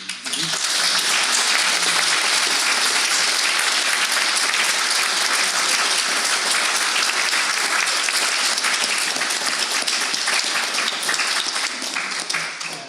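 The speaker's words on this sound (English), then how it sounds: "I really think I deserve a round of applause." An audience at a painters' talk in a Dublin gallery breaks into sustained applause, a dense, loud clapping that continues evenly throughout without fading.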